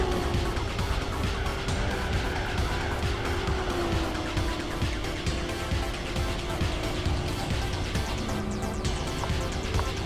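Race cars from the Gran Turismo 4 video game drive in a continuous, loud engine drone with steady revving and tire noise lasting throughout, with no talk over it.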